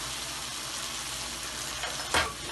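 Chicken legs frying in oil for palak chicken, a constant close sizzle with a brief louder scrape or stir near the end, no voices heard.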